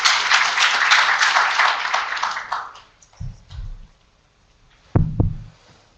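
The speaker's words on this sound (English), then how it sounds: "Round of applause, please." An audience at a resilience evidence forum applauds a conference panel; the clapping is dense and steady for about three seconds, then fades, followed by a few dull low thumps near the end.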